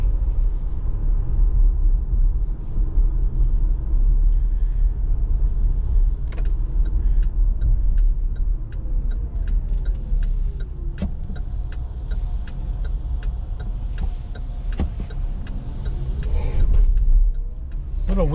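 A 2023 Chevrolet Bolt EV accelerates on a wet road, giving a steady low tire and road rumble with a faint rising electric motor whine and a few small clunks.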